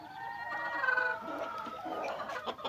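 Fancy chickens, including breeds such as black heavy, white silkie and golden laced Polish kept for sale, cluck in a soft, close, irregular run of calls.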